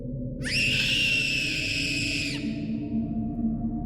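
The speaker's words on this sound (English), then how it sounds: "the girl's scream came from beyond the walls of the cemetery" A girl's high, piercing scream from a cemetery in an animated horror story, one sustained shriek of about two seconds over a low ambient drone, with no talk.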